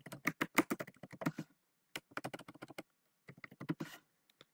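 Typing on a computer keyboard while software tools are installed in the Eclipse IDE: close, crisp key clicks in quick bursts with short pauses between them.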